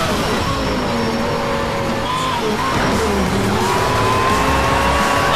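A Porsche Carrera GT racing in Need for Speed Shift: the engine howls loudly and shifts pitch through gear changes, with tire squeals, continuous and close.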